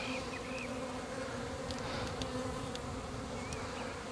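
A dense, steady buzzing of many bees fills the air, continuous and close, with no voices.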